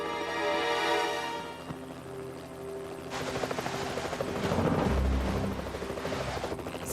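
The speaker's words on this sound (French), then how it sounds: "C'est un hélicoptère de la télévision." A television helicopter flies overhead in an animated scene: a rising rotor and engine roar with rapid chopping pulses, loud and close, following a short tonal passage at the start.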